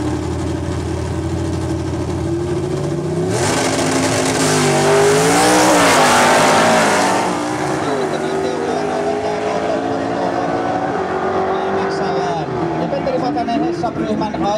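Drag race cars roar off the line at a quarter-mile strip in Vaasa, a loud engine surge swelling for a few seconds before fading down the track, with a commentator talking over it.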